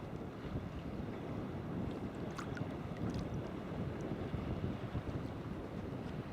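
Wind blows steadily across the microphone while sea kayaking at Neist Point on Skye, a constant buffeting rush with faint splashes of water and no talking.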